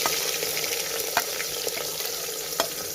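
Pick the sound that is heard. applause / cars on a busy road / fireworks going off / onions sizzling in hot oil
onions sizzling in hot oil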